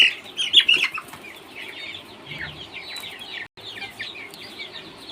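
Broiler chickens about 18 days old in a farm shed flap their wings and cluck, with a loud burst of flapping and calls near the start, then steady chirping and clucking from the flock.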